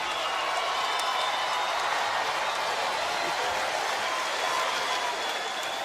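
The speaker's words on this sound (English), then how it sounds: "The crowd on its feet." A boxing arena crowd roars and applauds in a sustained, dense wash of cheering and clapping after Bernard Hopkins' win over Beibut Shumenov, steady and broad throughout with a faint commentator voice underneath.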